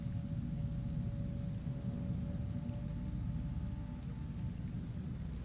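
Acid rain and thunder in a video game: a steady, dense wash of rainfall with a low rumbling bed running throughout, no voices.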